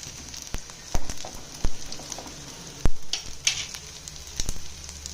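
Food sizzling and crackling in a pan over a gas flame turned up to full, cooking outdoors for a traditional lunch; a steady fizzing hiss with irregular sharp pops and crackles, fairly close and moderately loud.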